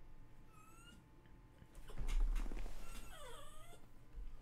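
A pet dog whimpers and whines indoors, thin high rising and falling cries in short bursts, fairly quiet and close, with a louder rustling swell midway.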